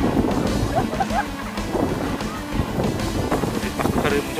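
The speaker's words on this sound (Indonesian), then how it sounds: "Dari mencoba angin badai lur." Strong, gusty wind roars and buffets the microphone near a flying dragon kite, a loud, continuous rumble with irregular blasts, and voices mixed in.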